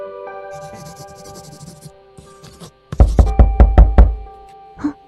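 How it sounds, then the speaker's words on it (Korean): After a stretch of soft indistinct sounds, a run of about six quick, loud knocks on a door rings out close by, followed by a brief quieter sound near the end. "계속 노크 소리가 들렸다."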